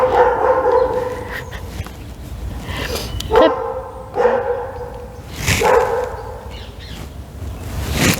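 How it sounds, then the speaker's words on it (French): A dog barks repeatedly and loudly nearby, with several sharp barks and yips spread across the stretch over a steady background of room noise. "J'espère que c'est pas trop dérangeant les aboiements."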